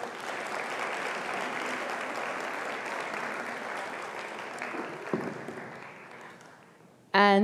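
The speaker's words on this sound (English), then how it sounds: "another round of applause" An audience applauds at an economic growth lecture as the speaker leaves the stage, a sustained, even round of clapping that tapers off before a voice begins at the end.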